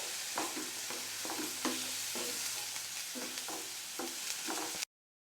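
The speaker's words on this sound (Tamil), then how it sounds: "இப்போ நல்லா கலந்து விட்டுருவேன்" A spoon stirs coconut burfi mixture with added milk in a pan, scraping in steady repeated strokes with a faint sizzle underneath, fairly quiet and close, then cutting off abruptly.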